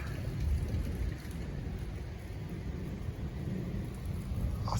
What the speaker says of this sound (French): Alors c'est bien un orage, hein,